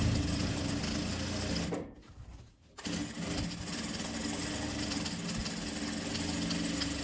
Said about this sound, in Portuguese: Vou costurar aqui o meu X.